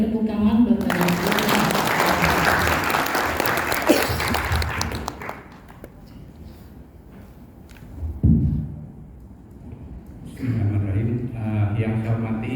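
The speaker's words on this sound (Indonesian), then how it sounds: "Boleh tepuk tangan Bapak Ibu." A burst of dense applause from an audience at a training opening ceremony, loud for several seconds, then fading into murmuring and a voice speaking over the room.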